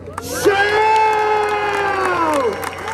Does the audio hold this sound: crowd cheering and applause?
yes